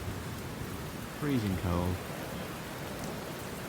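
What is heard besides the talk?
rain falling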